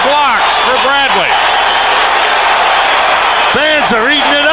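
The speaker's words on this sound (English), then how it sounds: "Sean Bradley getting a standing ovation" A roaring arena crowd at Reunion Arena cheers and applauds Shawn Bradley during a 1997 NBA game between the Lakers and Mavericks. Dense, steady crowd noise fills the whole stretch while a commentator talks over it.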